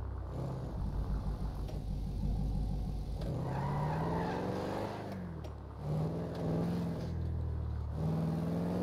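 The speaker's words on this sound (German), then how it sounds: "So, jetzt fahren wir einmal schnell unser Fahrzeug tanken." Car driving in the GTA role-play game, a steady engine drone that rises and falls in pitch as it accelerates and shifts, loud and close throughout with no talking.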